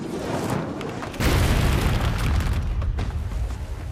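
A meteor crashes down in an explosion effect: a loud, broadband roar jumps up sharply at about a second in, then rumbles on heavily and steadily with deep low-end weight until the end, with no voices.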